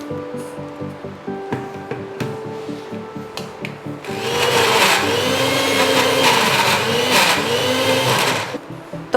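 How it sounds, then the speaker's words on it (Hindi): A grinder grinds peanuts into homemade peanut butter. A few seconds of quieter knocking and rattling come first. Then the motor starts a loud, steady whirring grind that runs to the end, with no talk. "अब फिर से हम इसको 30 to 40 सेकेंड्स के लिए ग्राइंड करेंगे"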